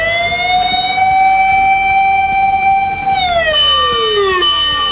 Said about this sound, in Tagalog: Makikitaan naghatag warning and fire truck sa San Antonio nga naglibot sa lugar